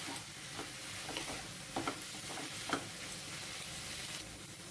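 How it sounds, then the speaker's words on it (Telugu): Tomatoes stirred and frying in a pan over a medium flame for a peanut, mint and tomato chutney, a steady soft sizzle with scattered scraping stir strokes, alone and close. "ఈ టమాటోలు కూడా వేసుకున్న తర్వాత మీడియం ఫ్లేమ్ లో ఇలా మిక్స్ చేసుకుంటూ ఫ్రై చేసుకోవాలండి"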